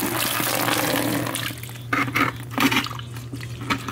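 Water pouring and splashing while a 45-gallon reef aquarium is broken down, a continuous rushing flow that turns into uneven gurgling splashes and drips, close and fairly loud.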